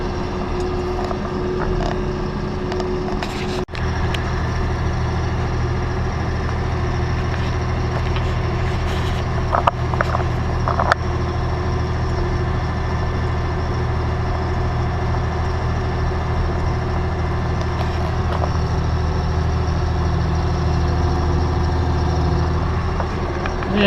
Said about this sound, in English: there goes the old 830 with a tandem disc